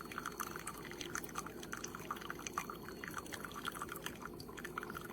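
A Tastyle single-serve coffee maker brews, with coffee dripping and trickling in a steady rapid patter, faint and continuous without talk.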